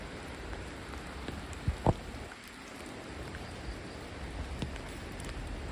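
Steady rain falling outdoors near an old Dutch-era bridge at Kedung Pengilon, a soft, even hiss of drops throughout with a couple of brief sharper knocks near the middle and no voices.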